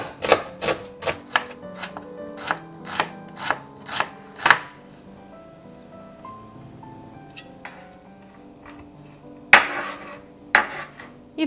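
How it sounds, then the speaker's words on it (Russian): A knife chops two medium onions as fine as possible on a board, giving a quick run of sharp, close, evenly spaced knocks, then a pause with faint rubbing and a few more chops near the end. "Лук нарезаем как можно мельче."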